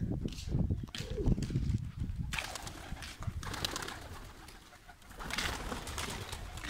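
Pigeons coo in low, throaty bursts close by, with rustling and fluttering noises mixed in among the calls.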